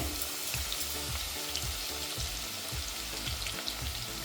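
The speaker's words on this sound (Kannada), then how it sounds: "ಈಗ ಬೆಳ್ಳುಳ್ಳಿ ಹಾಕ್ತಾಯಿದ್ದೀನಿ." Garlic frying in a few spoonfuls of hot oil in a pan, giving a steady close sizzle with soft rhythmic stirring scrapes every half second or so, with no voices over it.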